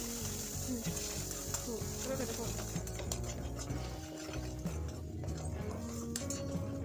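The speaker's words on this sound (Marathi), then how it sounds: "आता हे सगळे चिन्ह आपण तेलामध्ये एखाद मिनिट परतवून घेणार आहोत" Spices being sautéed and stirred in hot oil for a Maharashtrian matki usal, a steady close sizzle with scraping and stirring throughout, no voice.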